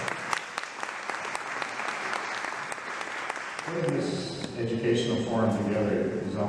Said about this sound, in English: Let's welcome, nicely, round of applause, Dr. Jeremy Carver.